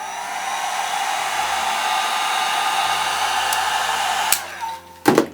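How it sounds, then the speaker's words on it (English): A hair dryer blows steadily and loudly while drying alcohol ink artwork, a constant whooshing hum that cuts off near the end with a couple of clicks and bumps. "So of course I can dry that."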